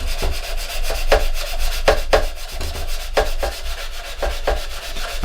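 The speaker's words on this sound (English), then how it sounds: "Got a nice coarse file here." Coarse file rasping across a plastic part from a 1/32 scale Revell He111 model kit, a steady scratchy rubbing with repeated sharp stroke accents, close and fairly loud with no voices.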